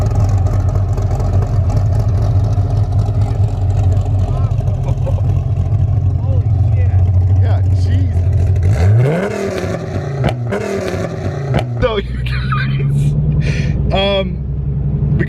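A rough, worn Chevrolet Camaro rumbles loudly at low pitch in a car show lineup near a Dodge Viper and an Audi R8, the engine note dropping away partway through as people start talking nearby.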